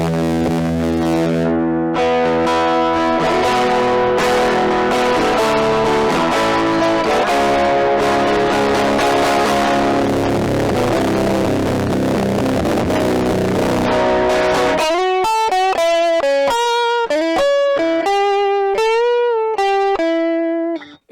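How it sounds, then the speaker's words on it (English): An electric guitar played through a Fuzz Face pedal gives a driven overdrive tone, first strummed chords and then a run of sustained single notes, close and loud with no talk. "It's so nice when you get that overdrive sound."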